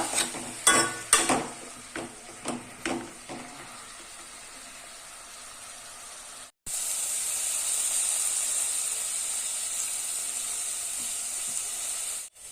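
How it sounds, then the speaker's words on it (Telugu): Fenugreek leaves frying in hot oil: sharp spoon scrapes and taps against the pan early on, then a loud, even hissing sizzle that fills the remainder, close by and without speech. "ఇలా మెంతం కూర వేసుకొని ఇది ఆయిల్లో మనకి మంచిగా ఫ్రై అవ్వాలా."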